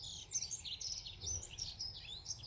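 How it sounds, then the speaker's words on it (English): Several birds chirp and twitter continuously in a very still morning after a September spring storm, bright overlapping calls at moderate distance over a low, quiet background hum. "It's just the birds singing to us."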